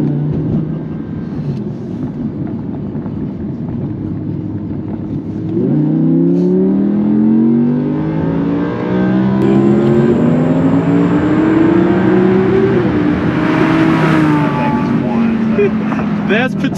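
A 2017 Audi R8 supercar accelerates hard on an open road, its loud, close engine settling briefly, then climbing steadily in pitch through rising revs with a fuller, throatier roar.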